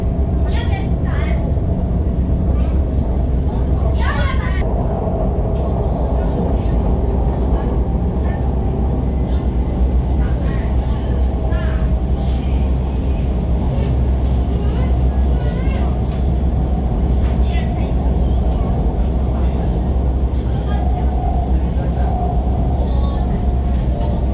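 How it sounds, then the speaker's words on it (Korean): Riding inside a Shenzhen Metro Line 11 subway train: a constant loud rumble of wheels and car noise fills the space, with occasional clanks and squeals and faint background voices. "현재 11호선 지하철을 타고"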